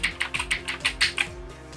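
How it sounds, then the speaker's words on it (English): Fingers tap steadily on a computer keyboard, about eight crisp, evenly spaced keystrokes close to the microphone with no voices over them. "the different sounds that keyboards make"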